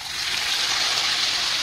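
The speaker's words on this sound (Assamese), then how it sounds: "এতিয়া দিম অলপ পানী" Water poured into a cooking pot on a home stove, a steady, close, rushing splash that runs evenly throughout.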